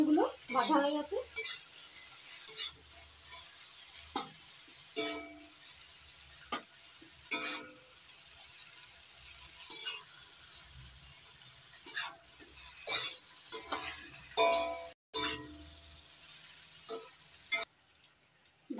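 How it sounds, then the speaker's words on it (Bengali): Ridge gourd being stirred and fried in a pan, with scattered scrapes and clinks of a utensil against the metal and a soft sizzle underneath, fairly close, with no talking. "ভাজা ঝিঙেগুলো নামিয়ে নিয়েছি"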